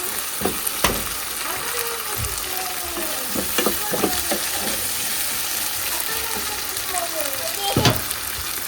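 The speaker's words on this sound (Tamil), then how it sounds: "இதில் வந்து தக்காளி போட்டுக்கலாம். பாருங்கள், தக்காளி போட்டுக்கிட்டேன்" Tomatoes fry in a pan for a brinjal chicken curry, giving a loud, steady sizzle broken by frequent clatters and scrapes from stirring close by.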